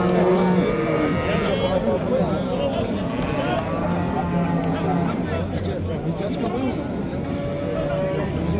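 Cows and calves low amid a busy cattle market at the Friday livestock bazaar in Pastdargom, Samarkand, their calls rising from dense, continuous crowd chatter and people talking nearby.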